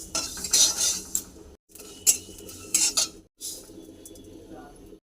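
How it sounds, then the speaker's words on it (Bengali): Ajwain, fennel seeds and dry chillies lightly fried in a pan for a green mango pickle, with a metal spoon clinking and scraping in three separate stirring bursts over a soft sizzle. "জোয়ান, মৌরি আর শুকনো লঙ্কা, এগুলো আমি ভাজি করে নেব।"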